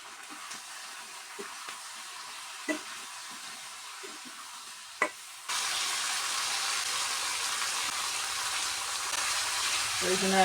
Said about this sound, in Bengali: এখন আমি এখানে অল্প নুন হলুদ দিয়ে ভেজে নেব আমি